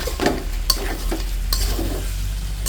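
Deshi chicken kosha being stirred and scraped off the bottom of a pan, a steady sizzle broken by a few sharp scrapes and clicks of the spoon, close and moderately loud with no talking.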